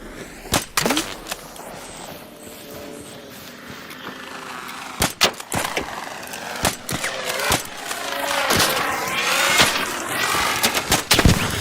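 Scattered gunshots from ARC Raiders ring out as sharp, separate cracks at irregular intervals, some near and loud, over a low droning background.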